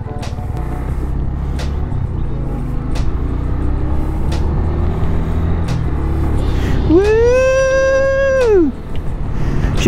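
A small single-cylinder beginner motorcycle thumps along on a test ride: a loud, steady low engine rumble throughout, with a strong rising-then-falling tonal whine near the end.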